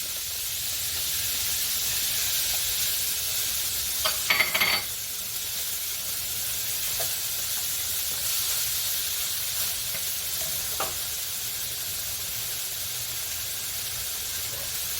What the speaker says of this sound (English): And I'm going to add onions next, red onions.